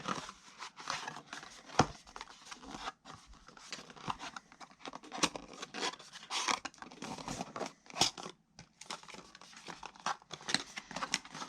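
Cardboard deck box from a Doctor Who card set being folded up by hand, a close, quiet series of crinkles, creases and scrapes in irregular bursts with short pauses.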